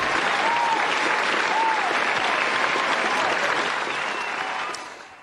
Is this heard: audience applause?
yes